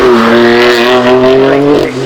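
A car accelerates on the Shelsley Walsh hill climb during the Gumball 3000 2024, its engine close and loud with a strong, steady note that climbs slightly, then eases near the end.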